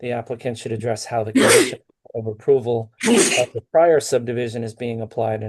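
A sneeze breaks out during a zoning board meeting, followed by a second sneeze a moment later. Both are sharp and loud and come under ongoing speech as a person reads aloud.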